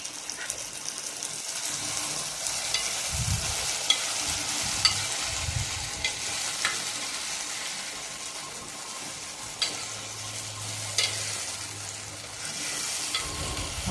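Ginger garlic paste sizzles in a hot pan for an okra and tomato curry, a steady bright frying hiss with occasional stirring scrapes and low clinks, close and continuous without speech.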